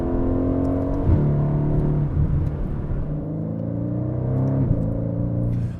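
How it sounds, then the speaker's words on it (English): The engine of a 2019 Aston Martin Vantage hums steadily, with pitch shifts as the ZF 8-speed gearbox downshifts, heard from inside the car. "this ZF 8-speed gives some pretty good downshifts"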